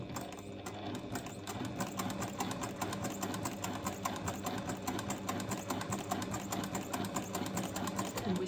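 Sewing machine stitching the final section of a rolled bag handle made without rope or tubing, running in a steady, continuous rapid rhythm throughout, close and moderately loud.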